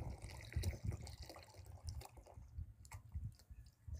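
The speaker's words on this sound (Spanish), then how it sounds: "le vamos a agregar la leche." Milk being poured into a pot of near-boiling water while making atole, a soft, quiet trickling and splashing stream with faint bubbling, continuing for several seconds without talk.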